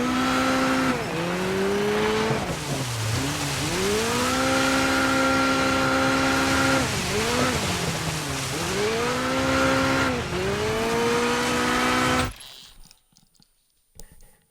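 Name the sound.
racing car engine and tires in video game DIRT 5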